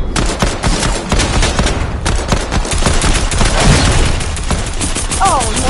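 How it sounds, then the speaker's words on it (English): Rapid bursts of automatic gunfire in a Fortnite match, loud and continuous with dense overlapping shots, some heavier booms and faint voices underneath. "Move, you're still shooting"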